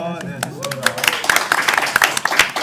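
At a Korean performing-arts youth symposium, the audience claps for those who worked hard, a quick burst of sharp, close handclaps mixed with a speaker's voice.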